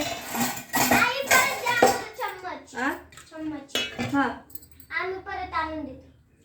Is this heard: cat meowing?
no